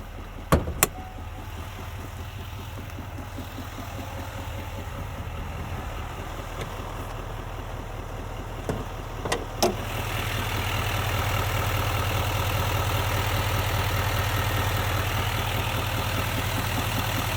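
Idling 6.6 liter Duramax diesel V8 in a 2020 Chevrolet Silverado 2500 4WD, a steady low rumble heard close, with a couple of sharp clicks and a slight rise in engine hum partway through.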